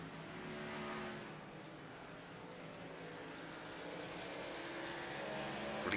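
Xfinity Series stock cars racing at Darlington, a steady, dense roar of engines running single file with a slight swell toward the end and no talk.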